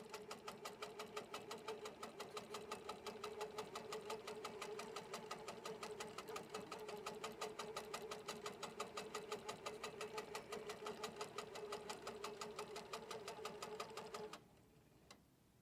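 An HQ longarm quilting machine guided by Pro-Stitcher stitches in a steady, fast mechanical rhythm of needle strokes over a low motor hum, running evenly until it stops near the end.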